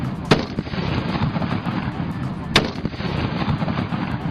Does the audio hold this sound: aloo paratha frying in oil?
no